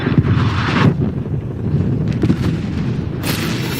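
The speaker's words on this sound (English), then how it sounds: "Hostile artillery targeting active. Net call. Incoming artillery." An incoming artillery strike in Call of Duty: Black Ops Cold War, heard as heavy low booms and rumbling blasts rolling continuously with windy noise, loud and close, plus a burst of high hiss near the end.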